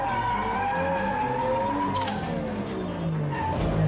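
Car tires squealing and skidding under hard braking on a practice course, a loud sustained screech over engine noise that shifts pitch and ends in a sharp burst.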